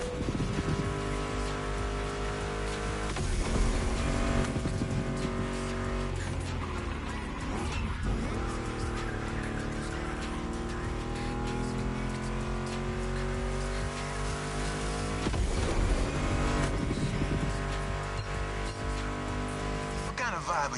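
Mustang GT muscle car engines rev and roar through a racing video game, the sustained, rising and falling drone mixed under loud music with a voice talking over it.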